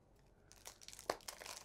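The sealed wrapper on a Heart of Crown: Fairy Garden card game deck is pulled open, giving faint, close crinkling and tearing that grows busier toward the end, with no talk.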